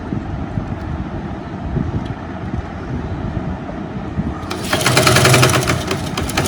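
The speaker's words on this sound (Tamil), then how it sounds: "இப்போ கழுத்து தைக்க ஆரம்பிக்கலாம்" A sewing machine stitches round the neckline of a lined top, a steady fast mechanical whir running continuously up close, growing louder and brighter for the last couple of seconds.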